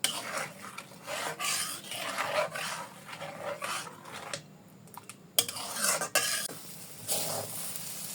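Bread-and-milk mixture with cardamom being stirred and scraped in a pan for malpua filling, a steady rasping, scraping rhythm of spoon against pan, close and fairly loud, with brief pauses and no talk.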